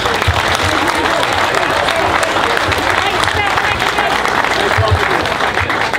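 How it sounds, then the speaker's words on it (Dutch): An audience at the opening of a new industrial laundry in Helmond claps loudly and steadily for the team behind it, a dense, close applause that keeps up for several seconds, with voices mixed in underneath. "Dus graag jullie applaus daarvoor."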